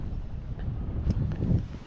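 Wind gusts outdoors during spin-rod fishing, rumbling and buffeting steadily with low, rough pressure and no voices.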